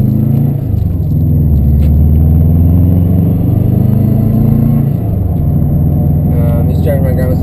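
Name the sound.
Subaru WRX driving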